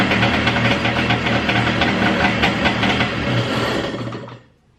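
A cold Kawasaki 650SX jet ski engine idles close by with a rough, steady two-stroke burble and vibration, holding even for about four seconds before cutting off abruptly into silence.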